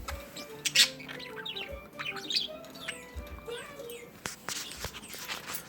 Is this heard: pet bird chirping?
yes